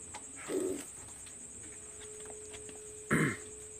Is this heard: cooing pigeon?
yes